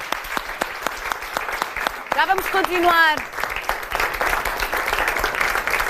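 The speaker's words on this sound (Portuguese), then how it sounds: "Um grande aplauso" Studio audience applause on a television talk show, with crisp steady clapping that continues while a host briefly speaks over it.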